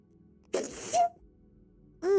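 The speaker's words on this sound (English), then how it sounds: "Oh shit, I'm gonna sneeze." A single close, loud sneeze bursts out after a short quiet pause, a sharp explosive breath followed by a brief voiced tail, with a person's voice picking up right after.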